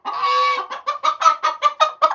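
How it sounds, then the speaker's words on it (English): Chickens in a coop at snack time: a drawn-out loud squawk followed by a rapid series of sharp clucks, close and alone. "My goodness, these chickens are so loud."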